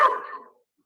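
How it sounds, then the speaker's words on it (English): A single short bark from a dog at night, loud and close, fading quickly into silence. "Sorry for my asshole dogs."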